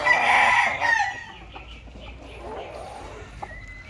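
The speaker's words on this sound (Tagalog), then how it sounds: "Gandang broodstag to." A gamefowl broodstag rooster crows once loudly and close at the start, followed by quieter background noise and a few faint clucks; someone talks briefly nearby.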